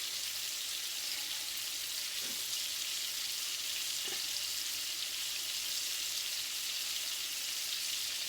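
Deer steaks fry and brown in a pan with a steady, even sizzle, constant and fairly close, with a couple of faint pops and no talking.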